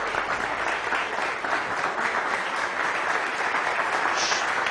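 Studio audience applause on the Iranian comedy show Khandevaneh, a continuous even wash of clapping from a crowd, moderately loud and without talk.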